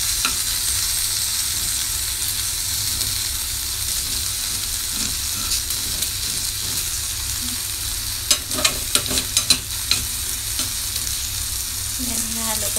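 Cooked rice is stirred into food frying in a pan, a steady close sizzle with scraping utensil strokes and a quick run of clinks partway through.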